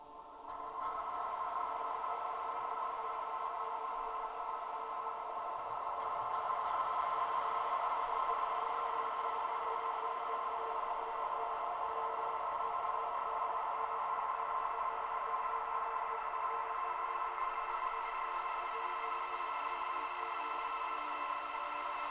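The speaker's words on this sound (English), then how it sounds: "And last but not least, we have the Valhalla Shimmer," A lush, sustained Valhalla Shimmer reverb plugin wash with high octave-shifted shimmer, a steady swelling pad that holds evenly and softly brightens partway through, no voices.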